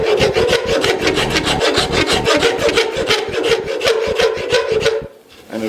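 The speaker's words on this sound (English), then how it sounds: "it's like a small rasp plane, so to speak, and it makes a really nice surface." A small rasp plane files a wooden guitar neck in quick, rhythmic, loud scraping strokes, close up, stopping abruptly near the end.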